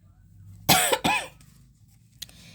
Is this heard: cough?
yes